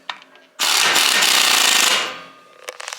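Impact wrench tightening lug nuts on a 2015 GMC Denali, one loud, close, rattling burst of about a second and a half, followed by a few light metallic clicks.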